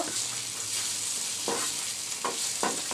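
Eggplant slices with a little turmeric fry in hot oil with a steady close sizzle, broken by several scraping stirs of a spatula against the pan.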